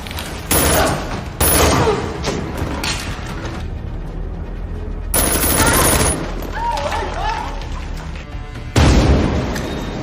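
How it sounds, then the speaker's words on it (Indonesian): Gunfire in a film shootout between guards, mercenaries and a lone woman: loud bursts of automatic fire and booming impacts come in several heavy waves, with quieter stretches of clatter and movement between them. "Terjadi tembak-menembak"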